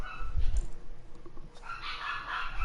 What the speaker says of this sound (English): why are they barking so much?